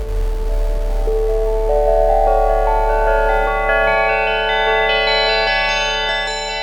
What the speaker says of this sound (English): It's got this like distorted bass boom with like a lot of bells swelling in and out.